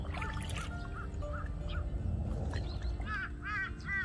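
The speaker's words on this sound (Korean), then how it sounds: "까마귀 엄청 시끄러워" Crows caw repeatedly at a reservoir during freshwater fishing, with harsh calls standing out toward the end over low outdoor noise and rustling.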